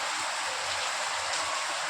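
Heavy rain pours steadily outside as a dense, continuous hiss with no let-up, close and fairly quiet, with no voices over it.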